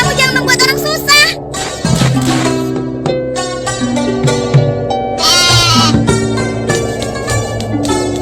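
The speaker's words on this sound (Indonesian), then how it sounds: "Itu namanya kambing pintar" A goat in an animated Islamic children's story about Umar bin Khattab and a milk seller gives loud, quavering bleats in several bursts over a bed of other sounds, with voices heard as well.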